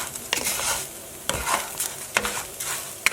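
Rice and onions cook in a pan, gently sizzling while a spoon stirs and scrapes in several irregular strokes, close and clear.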